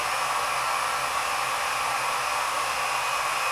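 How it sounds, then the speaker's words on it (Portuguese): Loud, continuous whoosh of a hair dryer blowing at constant strength throughout, with no other sounds. "agora eu vou usar o meu secador de cabelo para a gente dar uma variada nesses valores aí."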